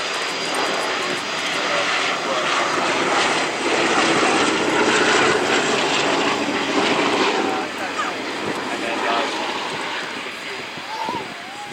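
A Boeing B-17 bomber drones past at the Royal International Air Tattoo at RAF Fairford, its piston-engine roar loud and sustained, swelling and fading, with a commentator talking over it.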